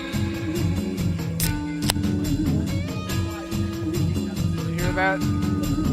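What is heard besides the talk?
beer can being cracked open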